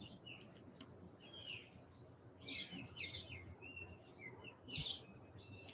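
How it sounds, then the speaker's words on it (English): Birds chirping outdoors in a quiet setting, several short bright tweets and trills coming in bursts over faint background hiss. "listen to the birds."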